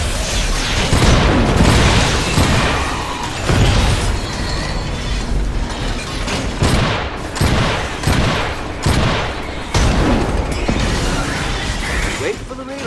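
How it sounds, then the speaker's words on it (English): Heavy battle noise in the mech game Iron Brigade, with loud rolling bursts of gunfire and booming explosions that surge and fade in waves, and a voice breaking in now and then. "Who's shooting at me?"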